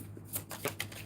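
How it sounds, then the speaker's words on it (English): A deck of cards being shuffled for a card reading gives a brief, quiet run of soft riffling flutters and light slaps, heard close up with no talking. "so I'm still shuffling"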